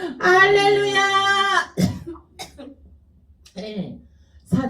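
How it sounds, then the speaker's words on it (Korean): A man coughs and clears his throat in short, close bursts during a church prayer service, with speech around the coughs. "막 제 기침을 통해서 해방하던 사단이 나갔습니다"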